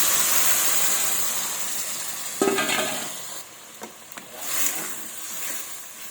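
Boiled mung dal poured into fried fish head in a pan, a steady frying sizzle and hiss that swells with a splash as the dal goes in, then stirring clatter over continuing sizzle.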